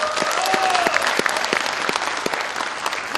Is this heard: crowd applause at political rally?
yes